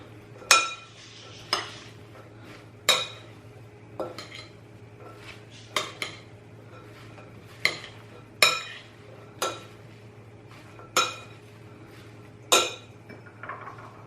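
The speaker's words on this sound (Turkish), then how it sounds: "Soğuttuktan sonra da şimdi bunların hepsini birleştireceğim arkadaşlar. Şimdi şöyle bir karıştırıyorum." A utensil clinks against a bowl while fried potato salad is mixed, about a dozen sharp metallic knocks at an uneven, unhurried pace over a low hum, close and without speech.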